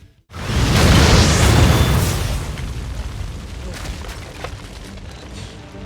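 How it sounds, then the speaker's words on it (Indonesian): A loud, deep bomb explosion booms and roars, then slowly decays into a long rumbling wash of noise. "setelah kejadian ledakan itu"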